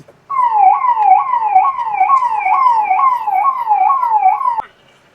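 An electronic siren wails loud and close, a fast repeating up-down sweep cycling about ten times over four seconds before cutting off abruptly, with no talking.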